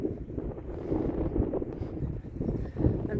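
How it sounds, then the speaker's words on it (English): Wind gusts outdoors on a coastal walk to a Cornwall bird sanctuary, buffeting the microphone in a low, uneven rumble that swells and drops throughout. "It's getting pretty windy out here."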